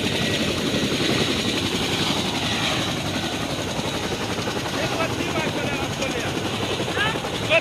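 A helicopter flies close by with a loud, steady rotor and engine roar that fills the whole stretch without a break, while voices talk faintly underneath.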